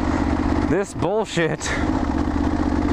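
A Kawasaki KLR650 motorcycle with engine trouble runs with a jumpy, uneven low engine note, close and loud. Someone speaks briefly over it.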